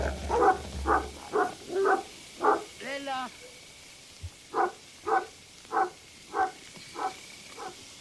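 Livestock guardian dogs bark repeatedly to drive off wolves. About a dozen loud barks come in an irregular series, with a brief whining yelp in the middle of the run.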